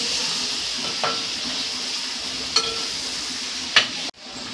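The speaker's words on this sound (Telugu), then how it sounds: "కొంచెం ఉల్లిపాయ పేస్ట్ అల్లం వెల్లుల్లి పేస్ట్ కొంచెం వేగనిద్దామండి" Onion paste and ginger-garlic paste fry in a pan with a steady, close sizzle, broken by a few faint clicks of a utensil against the pan.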